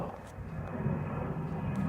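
Boeing 737 airliner passing overhead at an airshow, a steady broad engine roar held throughout at moderate distance.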